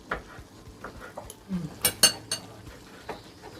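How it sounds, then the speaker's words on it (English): A spoon clinks and scrapes against a pot as Nigerian fried rice with spring onions and gizzard is stirred, giving a few sharp metallic taps and scrapes with faint talk. "I'll be adding the spring onions, gizzard. I'm going to stir together."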